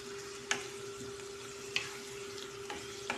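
Pansit noodles being stirred in a frying pan with a quiet, steady sizzle, broken by about four sharp scraping clicks of the utensil against the pan, with a faint constant hum running underneath.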